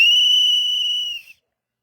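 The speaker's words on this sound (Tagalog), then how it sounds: "may Ma'am Abby, gitagaan mi niya og pito to signal na ana" A single shrill whistle is blown as a signal, one loud sustained blast lasting just over a second before cutting off into silence.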